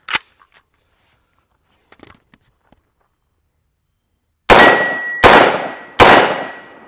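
A PSA JAKL .300 Blackout rifle fires three loud, close shots in quick succession, each with a ringing metallic tail, after a few faint clicks and near silence.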